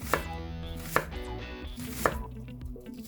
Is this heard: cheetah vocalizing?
no